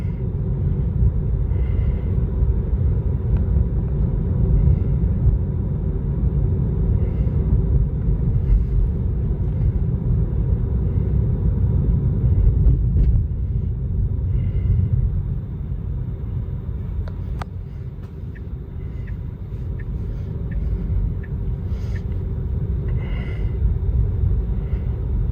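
Tesla car driving itself on Full Self-Driving, with a steady low road and cabin rumble heard from inside, continuous and fairly loud, easing slightly partway through.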